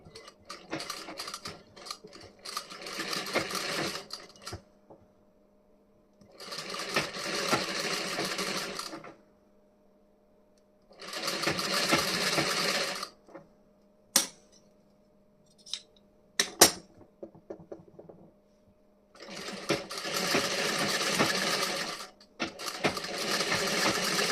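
A domestic sewing machine stitches the front placket of a blouse, running in steady loud bursts separated by pauses, with brief clicks and handling noises between runs.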